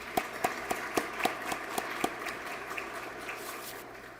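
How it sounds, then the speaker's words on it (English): Banquet audience claps for the sponsors at an awards dinner, a fairly quiet, thinning round with a handful of distinct sharp claps standing out early before it fades to a soft patter. "Let's give them one more big round of applause."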